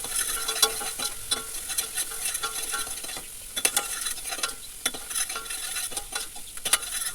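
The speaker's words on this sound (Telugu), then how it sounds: "ఆయిల్లో బాగా వేయించాలి." Avarekai (hyacinth bean) curry frying in oil in a pan, with a steady close sizzle broken by frequent scraping and clinking stirs of a spoon, no voices.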